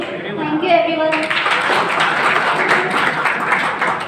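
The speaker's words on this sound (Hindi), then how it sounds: "तालियां" Applause from an audience at a college International Mother Language Day celebration in Bhopal fills the room, dense and steady after a brief stretch of speech at the start.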